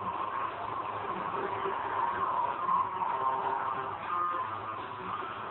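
Steady engine drone of a car driving in GTA 5, a continuous midrange rumble with slight swells in pitch and no pauses, sustained throughout.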